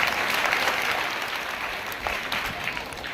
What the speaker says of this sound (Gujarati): જોરદાર તાળીઓ તમારા માટે